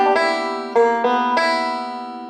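Up the neck on a banjo, a Scruggs-style forward-roll variation from Cumberland Gap rings out as a few bright, close plucked notes with sharp attacks and lingering ringing strings.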